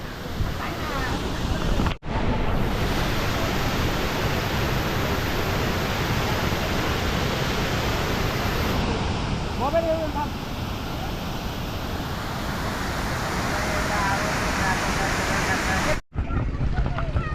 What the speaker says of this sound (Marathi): हा जो वॉटरफॉल आहे दिसायला एकदम छोटा दिसतो व्हिडिओमध्ये पण खूप मोठा असा वॉटरफॉल आहे